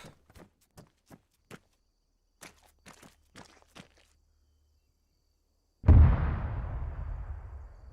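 In the video game Arma 3, sharp ticking footsteps sound in sparse taps, then one loud deep explosion booms close by and rumbles off into a long fading tail.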